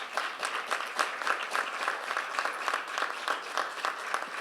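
A seated audience at a book presentation claps steadily to welcome a speaker, a dense, even round of applause heard from within the room without talk.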